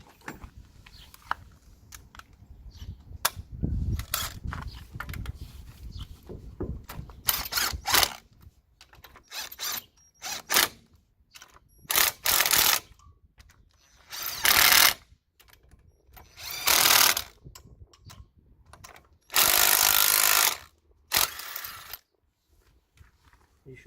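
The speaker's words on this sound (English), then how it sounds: "just gonna get our gun and the 19mm socket" Impact gun fitted with a 19mm socket on a Ford Focus front brake, firing in several loud rattling bursts of a second or two each, with talk and tool handling noise in between.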